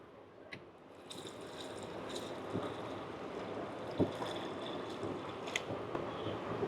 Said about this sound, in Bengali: আমি এখন আমার পরিমাণ মতো দুধ দিয়ে দিব